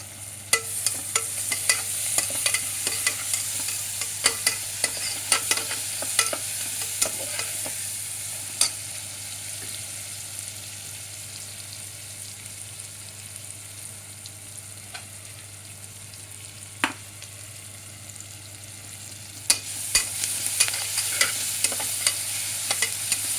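Ginger garlic paste frying in a pan for a mutton and bottle gourd dish, with a steady sizzle and repeated clicks and scrapes of stirring over a low constant hum.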